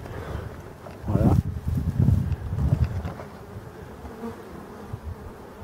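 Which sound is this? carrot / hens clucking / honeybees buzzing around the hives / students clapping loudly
honeybees buzzing around the hives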